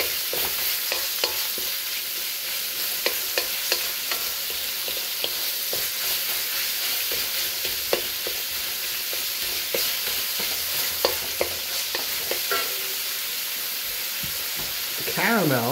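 Ground pork sautéing with ginger and garlic in a pan, an even, loud frying hiss throughout with repeated spatula scrapes and taps, plus a short clatter near the end.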